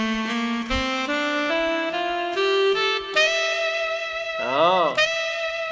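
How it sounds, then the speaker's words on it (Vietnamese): A keyboard plays a horn-like melody, a sustained brassy tone stepping upward note by note with slides and a wavering bend near the end, loud and close with no talking over it. "Đó là tiếng kèn."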